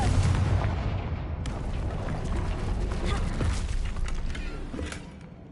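Hogwarts Legacy's Confringo fire blast spell erupts in a loud explosive boom with crackling debris, sustained rumble fading over several seconds amid game noise.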